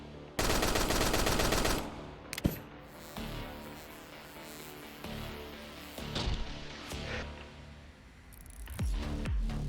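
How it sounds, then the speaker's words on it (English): Rapid automatic gunfire from a weapon in a game under development, a dense burst of close shots lasting over a second, followed by scattered single shots and thumps over a low background. "now when I shoot it"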